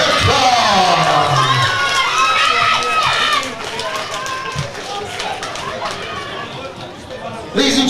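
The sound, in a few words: crowd applauding and cheering at boxing show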